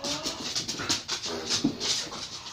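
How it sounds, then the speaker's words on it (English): A pet dog whimpers and pants in short, high whining bursts, close by and fairly soft, repeating several times over a few seconds in an indoor room. "Sorry for my dog."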